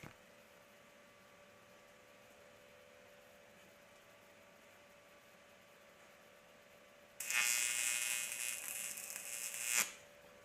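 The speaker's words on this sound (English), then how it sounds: "Well, that was just about a perfect tack in my opinion." A stick (SMAW) welding arc strikes for a single tack weld, crackling and buzzing loudly for about two and a half seconds before cutting off. Before the arc, only a faint electrical hum sounds.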